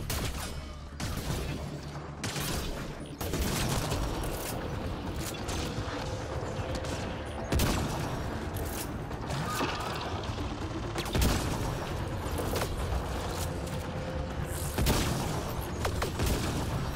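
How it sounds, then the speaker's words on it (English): Sniper rifle fire in the video game APEX, several sharp loud shots spaced a few seconds apart over a busy, continuous game soundscape with mechanical clatter between them. "Where'd that shot come from?"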